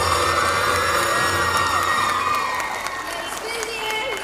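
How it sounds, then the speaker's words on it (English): A school audience at a girls' high school annual day claps and cheers after a dance, with shouts and whoops from children over sustained applause that eases slightly toward the end. "Let's fill the air with resounding applause, acknowledging the emotional journey we just witnessed."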